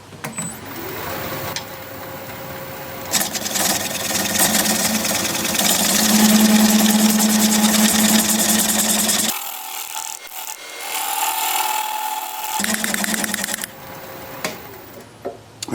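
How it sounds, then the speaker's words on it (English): A wood lathe turns a piece of scrap apple wood, giving a loud grinding, scraping whir from tool on spinning workpiece that cuts out briefly midway, then resumes before fading. "I may not be able to finish this on the lathe, but I'll try and get as close as I can."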